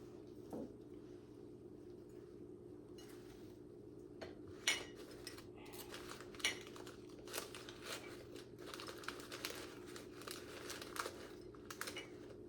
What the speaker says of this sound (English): And I did put some tissue paper inside of these cups here.